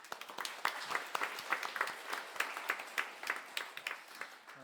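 A Salvation Army church congregation clapping together in a steady burst of applause during a Sunday service, fairly loud and continuous, with no talking over it.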